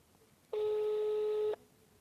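A single telephone tone, likely a ringback or busy-type beep heard while calling home, sounds as one steady electronic pulse of about a second, moderately loud against a quiet background.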